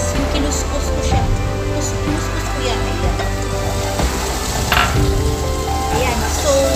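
Grated onion sizzles in hot oil in a pan for chicken noodle soup, a steady crackling fry with a sharp burst near the end, while a person talks over it.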